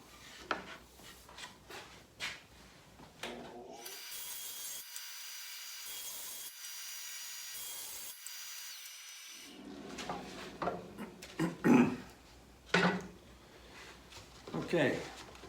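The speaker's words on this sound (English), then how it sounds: "So I'm going to cut these 3 pieces" A saw cuts through wood for drawer box sidewall pieces, a steady rasping cut lasting several seconds in the middle, with a person talking before and after it.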